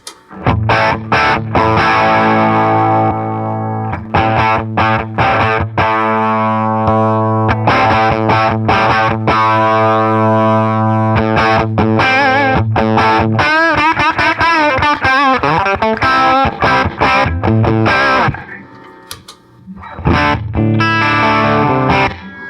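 Loud, saturated electric guitar through a boost pedal with heavy distortion, sustained chords broken by choppy stabs and a fast bending run, then a short pause before resuming.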